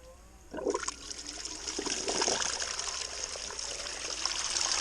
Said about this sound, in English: Bit of water. I turn it up slowly.